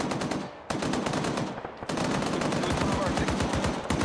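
Rapid machine gun bursts in a military shooter video game set in an Operation Inherent Resolve scenario, loud and continuous with a short gap, the rounds firing in quick rhythmic succession.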